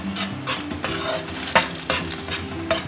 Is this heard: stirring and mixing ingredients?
yes